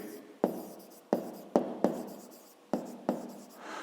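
A pen writes out a fifth-grade maths solution by hand, with about seven sharp separate strokes and scratches in an irregular rhythm, close and fairly quiet, with no talking.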